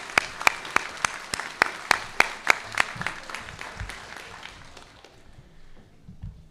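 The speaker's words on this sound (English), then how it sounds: "The class of 22, please rise and give your parents and families a round of applause" Graduates of the Charlotte Teachers Early College class of 2022 applaud their parents and families at a graduation ceremony, starting with a few sharp, distinct claps then building into a sustained round of clapping that fades away toward the end.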